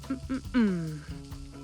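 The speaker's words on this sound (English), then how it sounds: "pop them on. Oh, hear that sizzle? Sounds so good." Soft sizzling from sticky rice balls toasting in a cooker, faint and close, with a few tonal hums and clicks over it.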